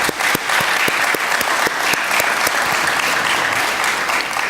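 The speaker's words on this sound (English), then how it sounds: "let's give him a round of applause, please" A town hall audience claps for a speaker, a dense, even round of applause from a crowd indoors, loud and sustained for several seconds without talk.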